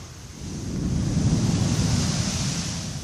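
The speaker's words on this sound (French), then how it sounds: "qui a des petites vagues sympathiques." Small ocean waves roll onto the shore in a steady wash of surf that swells in the middle and eases again, with wind noise over it.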